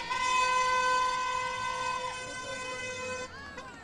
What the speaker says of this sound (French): Ah, vous avez le droit de klaxonner, hein.